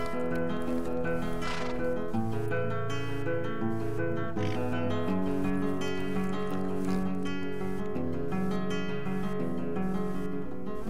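Horse snorts and whinnies from the video game Mein Pferd, heard during grooming against a steady backdrop of game music that fills the whole stretch.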